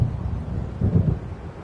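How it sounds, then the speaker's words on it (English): Low, rolling thunder rumbles from an approaching storm in Alan Wake Remastered, a steady deep roar that swells briefly, with wind and a hint of rain. "It seems there's a storm coming."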